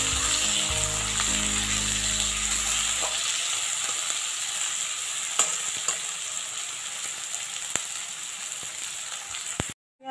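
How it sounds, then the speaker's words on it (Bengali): Chopped onions fry in hot oil in a pan while cooking rohu fish in yoghurt, giving a loud, constant sizzle with stirring scrapes early on before cutting off abruptly at the end. "এবার আমি এতে পেঁয়াজ কুচি দিলাম। পেঁয়াজটাকে একটু ভালো করে ভেজে নেব।"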